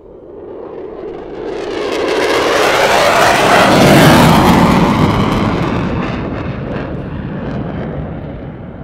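F-16 fighter jet with an afterburning F100-229 engine roaring past at an airshow in Leszno, swelling from a rumble to a loud, harsh peak midway, then receding as a fading roar, with no voices over it.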